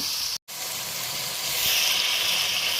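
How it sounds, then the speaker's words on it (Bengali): Spice paste for a duck curry sizzling in hot oil over medium heat in a frying pan on a gas stove, a steady bright hiss with one brief dropout, growing slightly stronger toward the end. "এখন মাঝারি আঁচে এই মশলাটাকে আমি ভালো মতো আগে কষিয়ে নেব"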